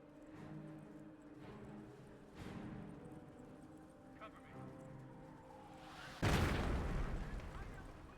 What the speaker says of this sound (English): Looks like the mortars are connecting with the hedge line there.